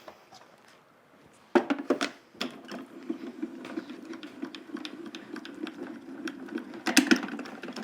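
Craft dies run through a die-cutting machine, giving a steady mechanical grinding rumble with clicking and clattering bursts, loudest at the start and near the end, close and alone without talk.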